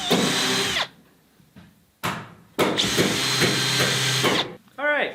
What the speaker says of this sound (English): I'll just drill enough to countersink so the screw heads are flush with the board